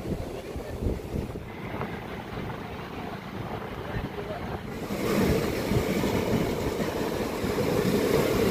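Ocean surf and gusting wind on the sand at Old Digha sea beach, a steady broadband wash that swells louder partway through, with wind buffeting the microphone.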